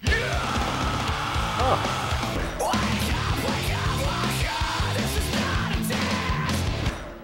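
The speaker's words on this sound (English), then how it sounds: "You wanted more screaming? You got it." A woman's prolonged screams play from an old VHS tape, loud and harsh in sustained bursts over a dense, noisy background that fills the whole stretch.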